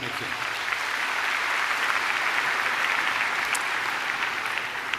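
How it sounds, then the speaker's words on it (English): Steady applause from a large audience at the WCIT 2019 opening ceremony fills the whole stretch, dense and even, with a few louder claps popping out near the end. "A round of applause, please, for Dr. James Poisant."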